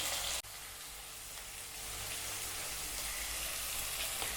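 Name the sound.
tomatoes sautéing in a pan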